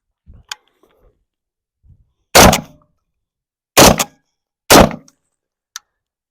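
A VRF14 12 gauge shotgun fires low recoil slugs: three loud, close blasts spaced about a second apart, with quieter mechanical clicks and clacks of the action before and after.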